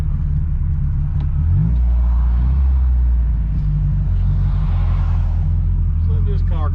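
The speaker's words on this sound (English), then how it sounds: "Rev it up a little bit." A 1972 Ford Pinto Runabout engine runs close by in a steady low rumble with a few brief revs, settling back toward idle, while people talk over it near the end.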